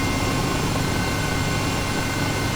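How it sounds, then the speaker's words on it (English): H135 helicopter in Microsoft Flight Simulator 2020 shutting down on a building rooftop: a steady, loud turbine and rotor drone holds evenly throughout, with no voices. "Now I'll go through the shutdown."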